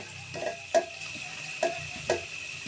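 Cabbage goes into a hot pan with green chilies and is stirred, giving a soft background sizzle broken by three or four distinct scraping stirs of a spoon against the pan, close and fairly quiet.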